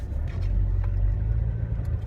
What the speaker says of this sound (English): Wow, what a cute car.